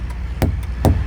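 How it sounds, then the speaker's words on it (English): Two sharp, solid thuds ring out less than half a second apart as an inflated, not-flat truck tire is struck during a pre-trip inspection, each one a firm dull knock with a fainter tap before them. "That is the sound of a tire that is not flat."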